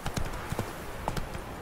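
A horse trots in The Witcher 3: a few crisp hoof clip-clops land in an uneven rhythm over a soft, steady game background for a brief moment.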